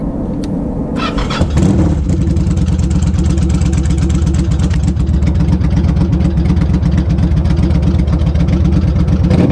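A Yamaha V-Star motorcycle fitted with a Barnett kit cranks briefly, then fires and settles into a loud, close, lumpy idle with a steady rhythmic thump.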